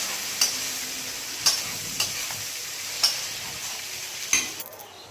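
Chopped onion and green chilli frying in oil for a chilli chicken dish, a steady soft sizzle with several sharp spatula scrapes and taps against the pan at irregular intervals, close by with no talking.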